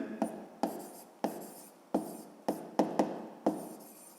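Pen or chalk writing by hand while working a 5th-grade maths problem, heard as a series of short scratchy strokes, each starting with a sharp tap and trailing off, roughly every half second, close and fairly quiet with no talk.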